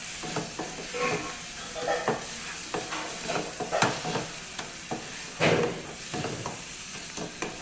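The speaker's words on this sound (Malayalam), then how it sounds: "പിന്നെ കുറച്ച് ഗരം മസാല, നന്നായിട്ട് മിക്സ് ചെയ്തെടുക്കാം" Onion-tomato masala with garam masala being stirred in a sizzling pan for chicken curry, with a soft continuous fry under repeated scraping, tapping spoon-on-pan strokes, close and moderately loud.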